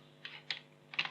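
Computer keyboard typing heard as three short clusters of quick key clicks, faint and close, set against a low steady hum.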